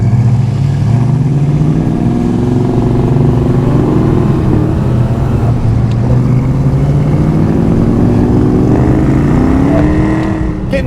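Supercharged 1986 Ford Mustang GT 5.0 with a five-speed manual accelerates hard, its engine note rising steadily and loudly in pitch from inside the car as the boost builds.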